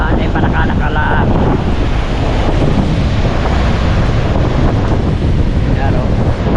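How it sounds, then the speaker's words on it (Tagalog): Strong, gusty wind blows steadily outdoors during the northeast monsoon (amihan) amid rain, a loud, continuous roar of buffeting microphone noise with a faint surf-like wash throughout. "Kita nyo naman ang lakas ng hangin."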